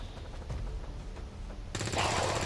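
Rapid gunfire bursts in the video game XCOM 2, a rattling volley that grows louder near the end over a steady game soundtrack.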